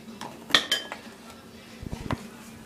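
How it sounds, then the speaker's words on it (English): A spoon stirs brown sugar and vanilla into a pot of no-bake chocolate oat bar mixture, giving a few sharp metallic clinks and scrapes against the pot, close and brief, followed by softer knocks. "I'm just gonna stir that in this nicely"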